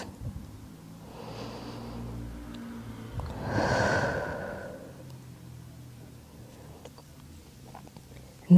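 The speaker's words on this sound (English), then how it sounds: "Take two deep breaths here. Exhale through your mouth." Deep breaths during a calming yin yoga session, two soft airy exhales through the mouth, close and quiet against a faint background hum.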